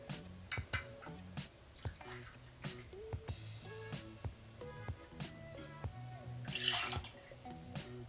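Empress Gin is poured into a measure for a purple gin sour, a soft liquid trickle with a few faint drips and light glass and bottle clinks, recorded close and quiet with no talk.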